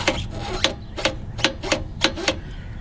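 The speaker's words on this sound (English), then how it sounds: "Now, I got a torque wrench on. It's a 14 millimeter. So let's pull on it until it clicks." A 14 millimeter torque wrench on truck lug nuts, giving a series of sharp, close mechanical clicks at an irregular, fairly quick pace over a low background hum.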